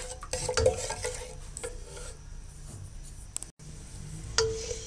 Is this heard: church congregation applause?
no